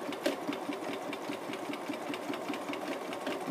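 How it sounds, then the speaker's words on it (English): A sewing machine with a clear darning foot runs steadily, free-motion stitching with bobbin thread along a marked line, its rapid even needle rhythm close and continuous throughout. "I'm going to take a few stitches, get that thread tail out of the way"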